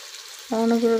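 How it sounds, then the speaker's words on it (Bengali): After a brief quiet, oil bursts into a sharp sizzle as an egg hits the hot pan, crackling steadily close up. "তেল দিয়া ডিমটাকে দিয়ে দিচ্ছি।"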